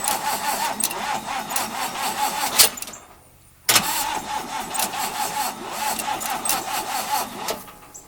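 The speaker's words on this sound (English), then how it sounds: "So you should just be able to turn the key and it should go. Give it a little gas." A 1955 Pontiac Chieftain sedan's engine cranks loudly with the choke partly off, cuts out briefly, then cranks and catches again, running rough up close.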